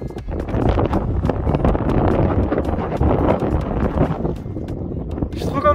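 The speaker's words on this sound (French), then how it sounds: "je suis désolé pour le vent" Strong wind buffets the microphone on a mountain summit in western Ireland, a loud, continuous rumbling roar that surges and eases, with a faint brief voice near the end.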